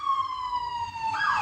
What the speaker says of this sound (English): here's our nightly siren, our suburban siren